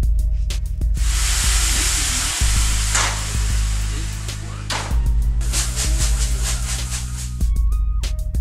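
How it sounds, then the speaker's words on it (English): Loud, steady sizzling hiss as boiling water is poured into a very hot cast-iron skillet, with a low rumble underneath and occasional clatter, continuous throughout. "Get yourself a pan of boiling water and add that to your cast iron skillet."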